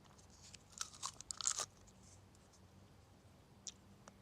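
Someone eats food close to the listener, with a quiet cluster of sharp crunches and mouth smacks, then a single later crunch against faint background noise.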